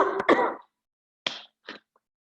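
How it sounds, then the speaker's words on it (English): A woman coughs in a short double burst, then after a pause gives two weaker single coughs, close to the microphone in an otherwise silent room. "There we go with the coughing again"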